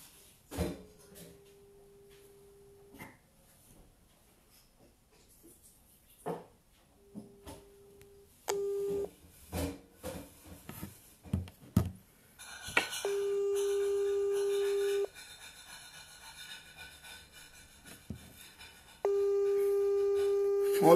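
An outgoing phone call to a governor produces a repeated ringback tone: long, steady tones separated by gaps, with scattered clicks and knocks of handling between them.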